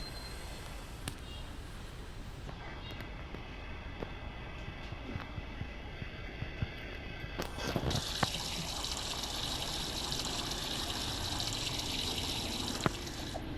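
Water runs steadily during a bath, a continuous trickling and gushing that grows fuller and louder partway through, heard close with some talk.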